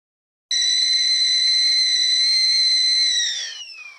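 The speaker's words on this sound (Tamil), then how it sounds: "இதில் தேவையான அளவு தண்ணீர் விட்டு விசில் போட்டுடலாம்" A pressure cooker whistle in a home kitchen, cooking chopped tomatoes with water, lets out a steady high shrill tone for about three seconds before its pitch sags and fades. No voices.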